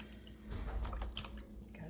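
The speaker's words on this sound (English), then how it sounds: "Rinse that off." A paintbrush swished and rinsed in a water container during an acrylic painting session, giving a soft, close liquid sloshing with faint drips, brief and fairly quiet.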